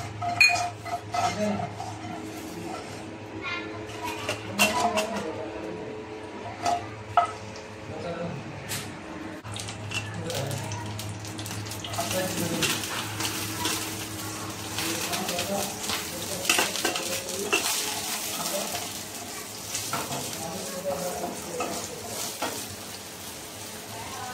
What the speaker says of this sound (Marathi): तेल टाकलं, त्याच्यामध्ये राई टाकलेली आहे